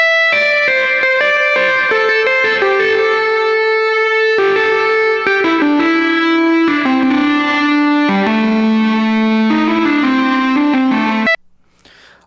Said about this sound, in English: right off the bat, it has distortion in it. It is a bit harsh to the ears